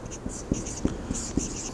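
Chalk or marker strokes on a board during a physics lesson: a handful of short, soft taps and scratches spaced irregularly, fairly quiet and close, with faint breathy noise between them and no talk.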